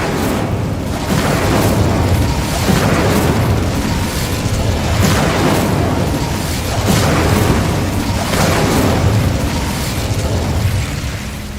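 Incendio fire spell cast repeatedly in the video game Hogwarts Legacy, a series of loud whooshing fiery bursts roughly every two seconds over continuous game ambience.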